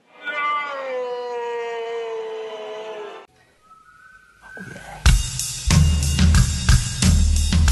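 A cat named Bozo gives a long, loud drawn-out meow up close, then falls quiet before rustling and bumping sounds take over.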